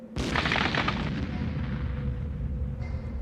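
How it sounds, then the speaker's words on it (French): A single deep explosive blast booms out, used to keep a shipping channel open, followed by a long, low rumbling roll that slowly fades, heard from some distance. "Ils utilisent des explosifs pour garder le chenal ouvert"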